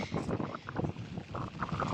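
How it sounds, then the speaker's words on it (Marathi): Strong monsoon wind in Konkan rain buffets an umbrella, a continuous close gusty roar with rough flapping surges. "माझी छत्री तुम्ही बघू शकता कशा पद्धतीने वारा दुमडून टाकतोय"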